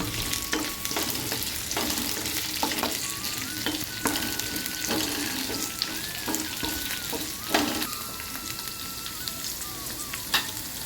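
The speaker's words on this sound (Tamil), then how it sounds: "இதோட நம்ம நறுக்கி வச்ச இந்த வெண்டைக்காயையும் சேர்த்துடணும் இது நல்லா இதுலேயே நல்லா பொறிஞ்சு வெந்து வரணும்" Chopped okra sizzles steadily in a hot pan for okra kara kuzhambu, with occasional scraping and clinking as it is stirred.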